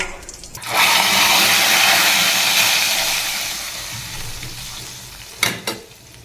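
Curry leaves and asafoetida hit hot oil for a tempering, bursting into a loud hiss that slowly settles into a fading sizzle, with a couple of sharp utensil clinks near the end.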